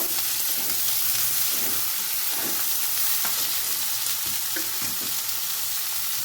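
Kolmi greens frying in a pan, a constant bright hissing sizzle with occasional soft stirring scrapes underneath, close and even throughout.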